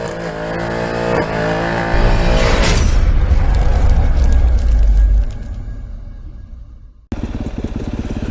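A KTM enduro dirt bike engine close by, idling with a buzzy two-stroke-like rattle, then revving hard and loud for a few seconds before settling, cutting briefly and restarting at idle.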